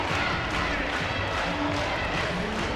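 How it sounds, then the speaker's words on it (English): Steady murmur and chatter of a large crowd filling a gym at a high school basketball game, Howe Bulldogs against Whitesboro Bearcats in an area championship, a constant dense wash of voices throughout. "Good to see a big Howe crowd here tonight."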